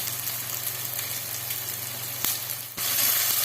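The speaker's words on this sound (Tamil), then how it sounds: "வெங்காயம் நல்லா பொன்னிறமா வதங்கி வரட்டும்" Small onions, finely chopped, fry in a pan for a crab masala, giving a steady, moderately loud sizzle with a low hum underneath and a brief stir or clatter near the end; no one speaks.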